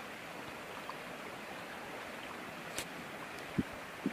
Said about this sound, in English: the water is going around behind it, as well as across this new dam